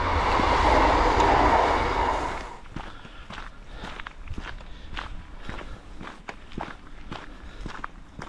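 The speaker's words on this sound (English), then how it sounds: "There's a train there." A train rumbles past in a broad roar that fades after a couple of seconds, followed by steady rhythmic footsteps crunching along close by on a walking path.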